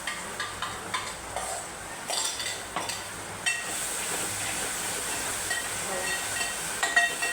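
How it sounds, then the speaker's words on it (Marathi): Spice paste for a Konkani-style masoor amti sautéed in a pan, with a steady close sizzle under scattered scraping and stirring clicks from a spoon, and no talk. "छान परतून घेऊया।"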